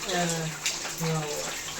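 Rainwater pours and splashes in through broken roof tiles during a windy downpour, a close wet gushing that runs throughout.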